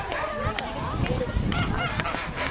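Ducks quack and honk amid a busy outdoor hubbub on a farm, with people chattering nearby over the steady calls of the birds.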